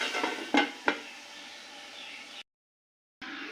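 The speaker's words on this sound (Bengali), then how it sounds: "ঢাকনাটা খুলে নিচ্ছি।" A lid is handled on a cooking pot holding puti fish and radish, giving two sharp metallic clinks over a faint kitchen hiss, then a moment of silence.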